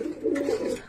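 English magpie pigeon cooing close by, a soft, low, rolling coo sustained through a single short phrase with no other sounds.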